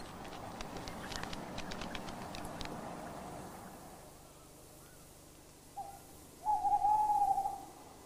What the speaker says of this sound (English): Tawny owls are often much in evidence in winter and can be heard defending their territories.